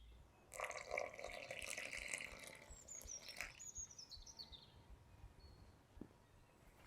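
Warm water poured into a well of flour for bread dough: a soft, faint splashing trickle lasting a few seconds, then fading into a quiet room.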